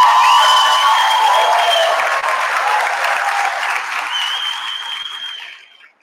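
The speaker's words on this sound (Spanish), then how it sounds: "Brindamos un gran aplauso para el cuarto año medio" Sustained audience applause fills a hall at a high school senior-class graduation ceremony, steady and dense, with faint cheering, tapering off at the end.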